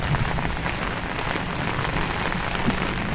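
Heavy rain pours steadily onto surfaces in Thailand, a dense, even hiss with no pauses, close and loud, with no voices over it.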